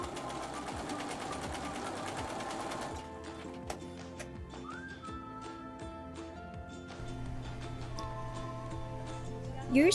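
A sewing machine stitches a quilt block seam with rapid, even ticking, louder at first, then slowing into separate clicks and a low motor hum.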